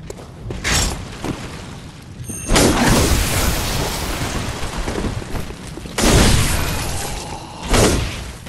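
Several loud, booming cannon blasts in the video game Bloodborne: The Old Hunters go off with gaps between them, each trailing a rumbling, crackling decay.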